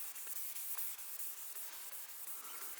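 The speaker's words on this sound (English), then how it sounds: "Gonna be a lot of rubbing." Steady wet sanding rubbed by hand over a car body, a Toyota Altezza, with continuous broadband scrubbing and regular back-and-forth strokes, close and fairly loud, no talking.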